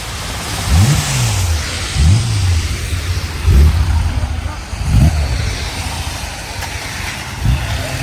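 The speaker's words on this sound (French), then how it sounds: "La Porsche est arrivée." A Porsche at the Tour Auto race roars past in repeated revving bursts, about five loud surges of engine noise rising and fading over steady background noise, with faint voices in between.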